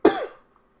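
A single short, forceful nose blow, close and fairly loud, fading within half a second and followed by silence.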